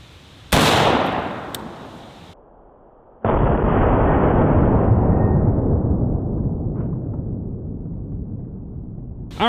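A 5.56 rifle is fired into a ballistics gel block: one sharp, loud blast with a long rolling echo, then a second loud crack that decays slowly into sustained reverberation outdoors.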